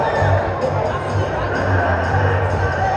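A lively crowd at an indoor men's college volleyball match, Carthage against North Central, fills the hall with a steady murmur of chatter and scattered cheering, and a low hum runs underneath.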